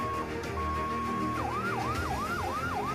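A Red Cross or Basnas ambulance siren sounds during a disaster rescue simulation in Indonesia, a steady tone switching to a rising-falling yelp over crowd and engine noise, fairly loud.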